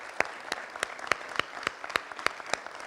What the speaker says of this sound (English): let's give them a big round of applause for bringing us together